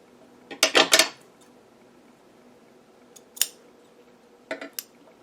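Scissors trim craft material for Star Wars-themed Minnie ears: a quick burst of several sharp snips near the start, then a lone snip and a final short pair of cuts, close and crisp against a quiet room.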